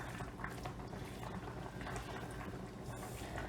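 Liquid sloshing and bubbling steadily as pasta water goes into a simmering bolognese sauce, a continuous close, moderately loud wet rush with no talking.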